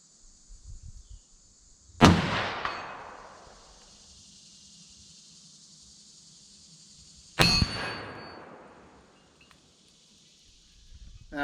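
Rifle bullets from a 1943 Remington 03-A3 in .30-06 strike a swinging 10-inch steel gong, producing two loud, bright clangs several seconds apart, each ringing and fading slowly over a steady high background tone.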